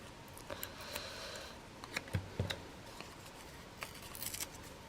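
Paper torn by hand around postage stamps on envelopes, close and quiet, with several short crisp rips and crinkles, a cluster of sharper tears in the middle and a brief rustling flurry near the end.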